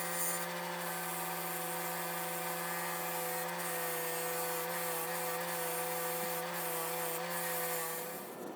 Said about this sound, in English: Maybe I'll just take a toothbrush and clean some of this off.